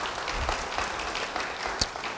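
A church congregation applauds during a sermon, a short burst of steady, fairly distant clapping with a louder clap near the end.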